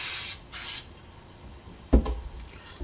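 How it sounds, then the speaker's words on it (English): Spray adhesive hissing from an aerosol can onto suede for a leather holster, two short bursts up close, followed by a soft thump and faint rustling. "I just use some spray adhesive"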